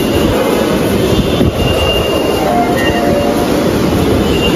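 Metro train at a station, a loud constant rumbling roar with a faint high whine on top, steady throughout and close, with no talk.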